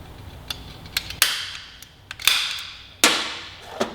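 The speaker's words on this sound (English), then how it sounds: "A little center punch action here." A center punch taps on a motorcycle bolt, giving several sharp metallic strikes with ringing decay, three of them clearly louder than the others, set against a faint background hum.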